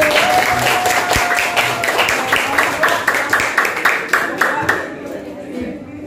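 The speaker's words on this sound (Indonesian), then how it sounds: "tepuk tangan buat kelompok 1" A high school classroom claps for a student group. At first the clapping is dense and mixed, then it settles into rhythmic unison claps that slow and fade near the end.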